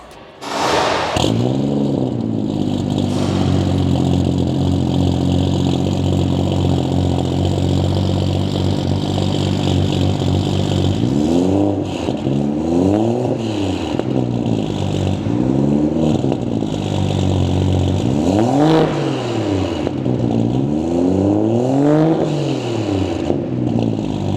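A loud BMW 335/435 engine starts and revs repeatedly through an aggressive BimmerWorld F3X race exhaust, rising and falling in several bursts over a steady rumbling idle.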